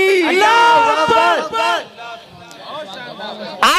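A crowd at a religious gathering answers a takbir call with a loud massed shout of Allahu Akbar, voices swelling together and then dropping off into scattered murmurs and a brief final burst.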